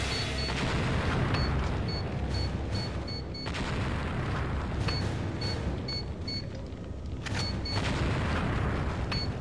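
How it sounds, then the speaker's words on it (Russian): Enemy gunfire rings out in Resident Evil 4 HD during the hard-mode battle with Krauser, with repeated sharp shots and booms cracking over a dense, continuous roar of game noise. "Падла вовсю стреляет, а?"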